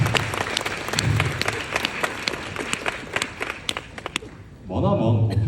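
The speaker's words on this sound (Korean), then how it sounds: "멋지신 선배님의 스타일시 박수 부탁드립니다" An audience claps for a senior's three-line poem, a thick, lively burst of applause that thins into scattered claps before a voice comes in at the end.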